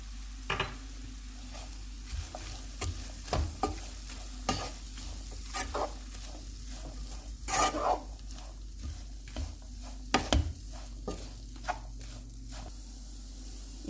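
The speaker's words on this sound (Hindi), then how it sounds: "इन सारी चीज़ों को मिक्स करने के बाद" Chicken patty filling of chicken, black pepper and salt is stirred in a hot pan, a close series of scraping spoon strokes over a low, steady sizzle, irregular and repeated, with no talking.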